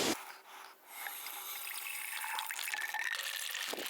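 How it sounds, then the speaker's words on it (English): Water rushes from a cracked-open valve into a whole-house water filter canister, a loud, steady hissing gush that fills and swishes inside the housing, with no talking. "slowly crack this water valve open a little bit. That way I can get some water in this canister, swish it around"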